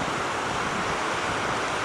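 Glacial meltwater rushes down from the mountains near the Grimsel Pass in the Swiss Alps, a steady broadband roar that stays constant and loud throughout, with some wind buffeting on the microphone and no voices.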